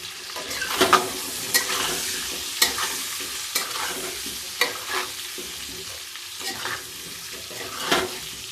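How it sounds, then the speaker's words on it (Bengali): Potatoes frying in a pan with salt and turmeric while being stirred, a steady close sizzle broken by repeated scraping strokes of a spoon against the pan. "এবার ভালো করে নাড়াচাড়া দিয়ে"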